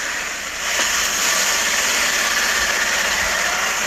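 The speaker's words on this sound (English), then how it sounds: "Because it's 4-speed and in low gear ranges, it hops and jumps every once in a while." A Pontiac car with a 4-speed gearbox running in low gear: a loud, close, steady engine rumble with slight surging, heard alone without talk.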